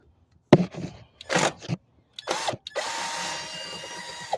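A power drill fires in short bursts while removing a crankshaft sensor on a 2014 Jeep Patriot 2.4L, a few brief whirs separated by pauses, then a longer steady run at the end.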